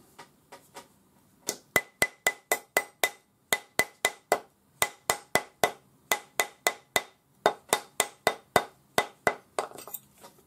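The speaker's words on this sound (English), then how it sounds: "Use your rawhide hammer." Rapid, sharp taps of a rawhide hammer rounding a metal ring on a ring mandrel, in quick bursts separated by short pauses, close and crisp.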